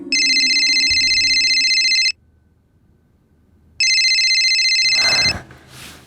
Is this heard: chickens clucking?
no